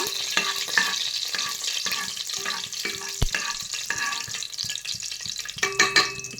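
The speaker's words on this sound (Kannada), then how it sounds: "ಈಗ ಎಣ್ಣೆ ಕಾದಿದೆ, ನಾವು ತೊಗೊಂಡಿದ್ದಂಥ ಸ್ಪೈಸಸ್ನೆಲ್ಲ ಈಗ ಆ್ಯಡ್ ಮಾಡ್ಕೊಳ್ಳೋಣ" Whole cloves and cinnamon frying in hot oil, giving a steady close sizzle with scattered crackles and stirring scrapes throughout, louder pops near the end, no voices.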